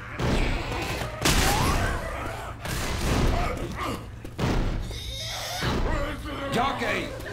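Rapid bursts of pistol gunfire in a video game crack repeatedly amid chaotic action, with shouting voices over the shots.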